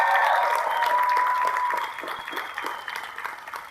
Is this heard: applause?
yes